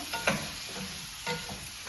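Pieces of peeled raw jackfruit are stirred in a pan, giving soft scraping strokes over a faint background sizzle, close and quiet.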